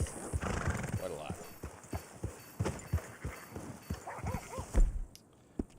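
A horse close by, with hoof clops, snorts and a whinny, mixed with voices talking over it.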